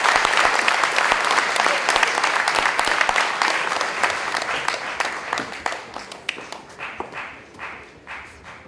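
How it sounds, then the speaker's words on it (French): Applause from the crowd at an opening ceremony in Villejuif, France, starting dense and loud, then gradually thinning to sparse, separate claps as it dies away. "On peut encore applaudir le temps qu'il monte, s'il vous plaît."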